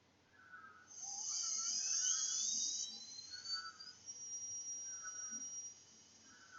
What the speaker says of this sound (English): The screw is inserted under power.